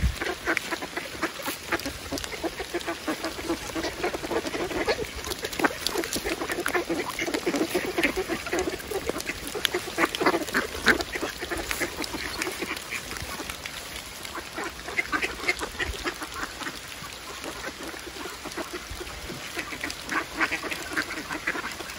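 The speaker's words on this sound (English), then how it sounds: "And as you saw earlier, there's a lot of ducks here." Ducks at a reservoir quack in a busy, overlapping chorus while being fed, with some honking calls mixed in, close and continuous against outdoor background noise.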